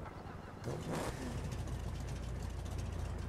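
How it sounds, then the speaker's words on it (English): A drag car engine in GTA 5 starts up, a brief crank followed by a steady, loud idle rumble that holds for the rest of the moment without speech. "Alright, let's start this sucker up and see what we got."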